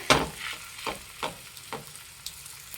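Ragi rotti, a finger millet flatbread, hits a hot pan and sizzles. A sharp initial burst is followed by several softer frying and scraping swells at close range, with no talking.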